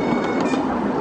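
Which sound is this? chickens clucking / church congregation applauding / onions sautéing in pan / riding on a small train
riding on a small train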